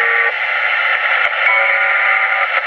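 Realistic Navaho TRC-490 CB radio picking up a distant skip transmission: a steady, dense band of hiss and static with a faint, garbled carrier, unbroken for the full length and heard alone.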